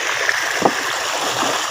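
A water pump runs nonstop at a catfish fishpond, giving a steady broadband rushing, watery drone with a couple of faint splashy knocks; no voices.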